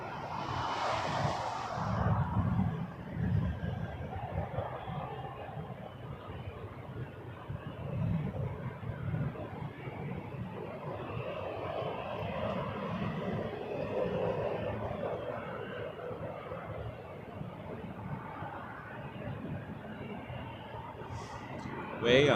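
Emirates Airbus A380 airliner coming in to land at Toronto Pearson, a distant low engine rumble and roar heard at moderate level beneath steady talk.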